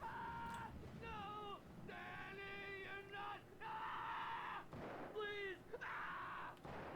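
In the video game Alan Wake Remastered, a character lets out a run of high, strained, wavering screams and yells. The cries come in several bursts with brief breaks, set over a low background rumble.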